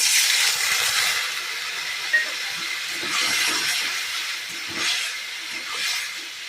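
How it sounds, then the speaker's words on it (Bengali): Duck egg curry in a hot pan hisses and sizzles loudly and steadily after water is added, with brief surges of steam throughout and no one talking. "গা দিয়ে একটু জল দেব।"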